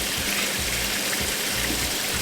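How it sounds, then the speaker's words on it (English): Tap water runs steadily beside oysters being shucked on an aluminium block, a constant close rushing stream with an even level and no speech. "So we turn our water on."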